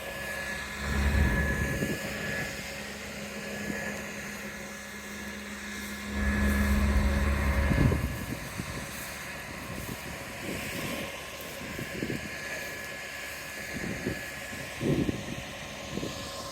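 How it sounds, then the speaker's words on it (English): A large tractor drones steadily at a distance as it drives across a field, with low rumbling swells and occasional clanks. "That's quite a decent size of the tractor."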